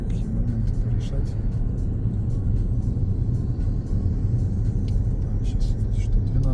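A car rolls along the road with a steady, close low rumble from inside the cabin and no breaks.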